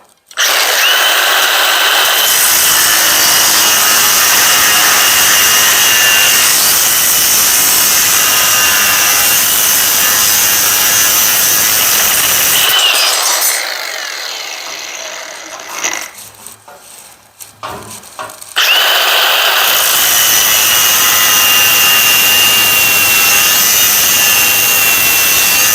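An angle grinder cutting through two flat metal straps at once, a loud sustained high whine that drops away briefly midway with a spluttering lull, then resumes at full strength.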